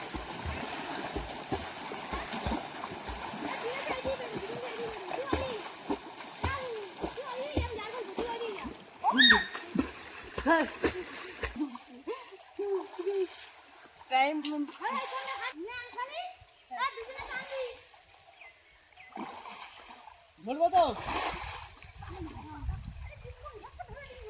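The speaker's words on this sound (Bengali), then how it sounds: "মাছ ঝাড় দিচ্ছে যাতে মাছগুলো একদিকে চলে আসে" Water splashes and churns in a pond as fish are driven toward one side during a fishing outing, with repeated sloshing bursts and voices talking over much of it.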